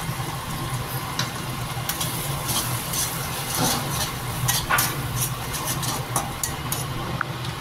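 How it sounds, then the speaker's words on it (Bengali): Poppy seed and garlic paste with green chilli is stirred into onions frying red, making a close, steady sizzle with scraping stirs and intermittent crackly bursts and no talk. "এরপর আমি এই পোস্ত আর রসুনের যে পেস্ট আর কাঁচা লঙ্কা, সেইটা অ্যাড করব।"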